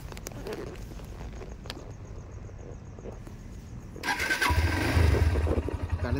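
A motorcycle engine cranks and fires up, going from a low idle to a louder, steady rumble close by, with footsteps and rustling before the start.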